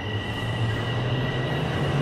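A Toronto Line 1 subway train pulls into the station with a steady, loud rumbling roar and faint high wheel whine, the noise holding constant and rising slightly as it approaches.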